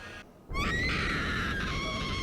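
A woman in a One Piece anime episode lets out a long, loud, sustained scream that starts suddenly after a brief quiet moment and holds at full intensity.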